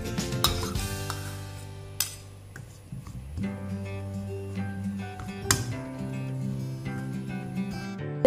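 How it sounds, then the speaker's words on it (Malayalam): Clam meat being mixed by hand with ginger-garlic paste and salt in a dish, giving close scraping and stirring sounds with sharp clinks of a utensil against the bowl, no voices. "നമുക്ക് ഇനി അതിൻ്റെ എല്ലാം കൂടി ഒന്ന് മിക്സ് ചെയ്യാം."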